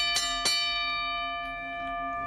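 A bell rung on a TV sports show strikes twice in quick succession near the start, each ring loud and bright, then its tone hangs on and slowly fades with no talk over it.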